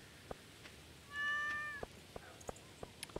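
A cat in the farming video game Stardew Valley gives a single clear, drawn-out meow amid soft scattered footstep clicks, quiet and without talking over it.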